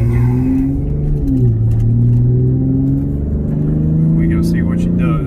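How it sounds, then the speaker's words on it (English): A car with a nitrous-fed 3.6L Pentastar engine holds a loud, steady low engine drone with shifting pitch as it spins its wheels, and a brief squealing burst comes near the end. "Okay, I'm gonna spin now"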